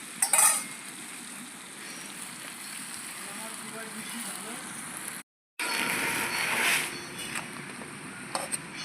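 Cabbage and a fish head are stirred and fried together in a pan, giving a close, continuous sizzle with scraping utensil strokes, a brief cut of silence midway, then louder stirring and clatter.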